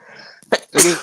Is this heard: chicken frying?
no